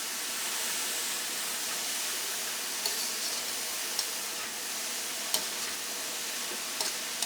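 Cabbage and carrot thoran being stirred in a hot pan, a soft continuous sizzle with occasional faint scrapes and clicks of the spoon, quiet and steady throughout.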